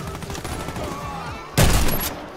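Gunfire from a MAG-7 shotgun in the shooter game Warface: a single loud, close blast rings out near the end, following a stretch of steady game noise and low rumble.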